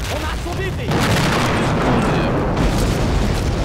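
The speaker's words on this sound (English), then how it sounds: "That will be a great target for our Noble Werfer, which is literally just reloaded" Nebelwerfer rocket artillery firing in the WWII strategy game Men of War: Assault Squad 2, Stalingrad battle: a booming launch and rumbling blasts over battlefield noise, loud and close, with a voice speaking over the din.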